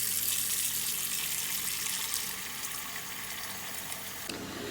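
Tap water runs steadily into a pot on a kitchen counter, a broad hissing rush that carries on throughout and drops in pitch near the end as the pot fills.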